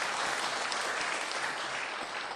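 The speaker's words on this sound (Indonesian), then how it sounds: "Tepuk tangan tuh." An audience applauds steadily during a Buddhist talk, a dense even wash of clapping with no breaks, fairly quiet and unaccompanied by speech.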